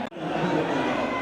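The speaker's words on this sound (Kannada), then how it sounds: "ಜೋರಾದ ಚಪ್ಪಾಳೆ ಬರಲಿ." A crowd at a stage event produces a steady, dense roar of cheering and applause that holds at an even level throughout the short moment.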